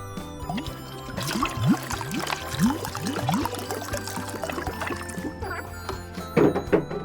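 Water poured into a container, a splashing, gurgling stream with rising bubbly pitch sweeps, steady and close, ending in a few louder splashes.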